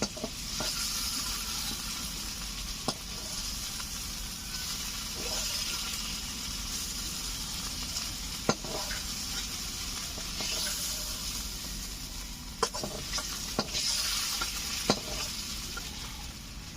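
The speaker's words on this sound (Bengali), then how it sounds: "এই মাছ ভাজার তেলে আমি আলুগুলোকে ভেজে নিচ্ছি।" Potatoes fry in leftover fish-frying oil in a pan, giving a steady close sizzle with occasional sharp crackles and stirring clicks, and no talking.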